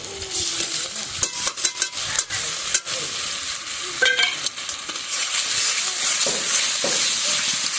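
Spice pastes of cumin, ginger, garlic, onion and chilli being stirred and sautéed with potato and tomato for egg curry, a steady close sizzle broken by scraping stir strokes throughout, with no talking.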